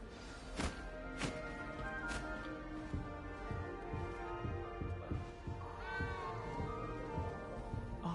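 A small frightened cat in the Hogwarts video game meows repeatedly, the cries rising and falling over a soft rhythmic music bed with light thumps, fairly quiet overall.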